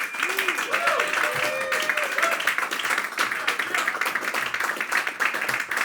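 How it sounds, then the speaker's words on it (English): An audience at a New York roast battle claps for a comedian taking the stage, dense, steady applause running throughout with a voice speaking over it. "Everyone, give him a hand."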